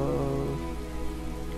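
Rain falling steadily on a surface, a soft continuous patter and hiss without breaks or voices, over a low background hum.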